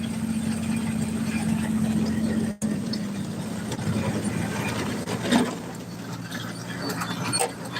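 A Farmall Model H tractor engine runs steadily at close range while pulling an International 430 square baler, a constant mechanical drone with brief clanks and a momentary dropout partway through.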